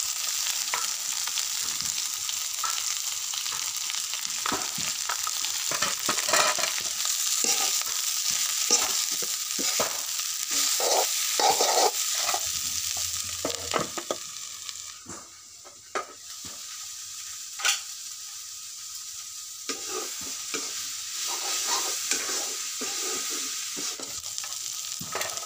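Onion, fiddlehead fern and potatoes stir-fry in a pan with a steady close sizzle, broken by frequent scraping stirs and utensil knocks, a brief quieter pause midway.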